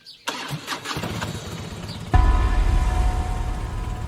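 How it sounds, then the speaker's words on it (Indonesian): An old motorcycle engine cranks with brief clattering attempts, then catches suddenly and settles into a loud, steady idle close by. "Dengan ragu, Lina mencoba menyalakan motor lama."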